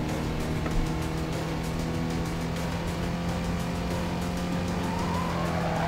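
In the racing game Need for Speed: Carbon, a car drifts with a sustained engine drone and a rising tire squeal, loud and continuous without any voices.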